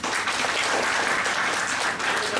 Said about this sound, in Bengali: জোরে প্লিজ জোরে একবার হাততালি।